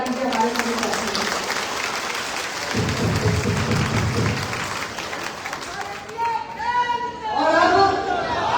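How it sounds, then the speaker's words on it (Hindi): Crowd applauding at a district-level party workers' gathering in Bahraich: sustained clapping with a louder burst midway, mixed with chatter and voices near the end. "कम जोरदार तालियां बजा दीजिए हमारे सभी साथियों को।"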